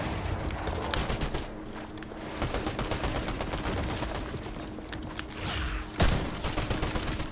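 Automatic gunfire from a competitive shooter game runs in rapid continuous bursts, close and loud, with a sharp louder shot near the end and no speech.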